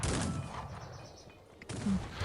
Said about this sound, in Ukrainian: Щось там стріляє, щось там б'є трохи.